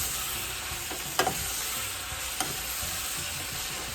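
Pea pods and carrots are tossed in a thickening glaze in a hot pan, giving a soft, steady sizzle and two small clinks of the pan, with no talking.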